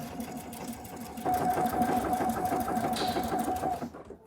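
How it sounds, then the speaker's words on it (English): A sewing machine stitches along a drawn guideline, its rapid even needle clatter starting softly and then running steadily louder before stopping abruptly. "you're just going to stitch like this as we go"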